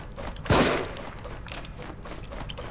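A single loud gunshot from The Evil Within, a survival horror video game, cracks sharply and fades into quieter in-game ambience, with no talking.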